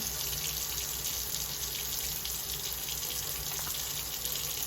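Coffee-making items are rinsed under a running kitchen tap, a steady close stream of water splashing into the sink without a break and no talking.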